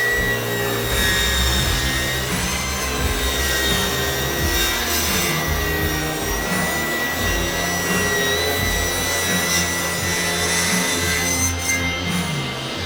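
A table saw rips lumber to width with a loud, steady whine and a rough, grinding cut through the wood that holds on for the whole stretch, close and without any speech.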